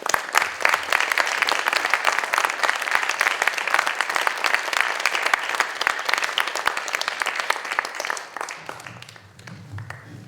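An audience welcomes a speaker at an evening talk with dense, loud, sustained clapping that thins out and fades over the last couple of seconds.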